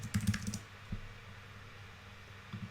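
Fast, light typing on a computer keyboard, a quick cluster of key clicks near the start and a few scattered taps later, close and quiet with no talk.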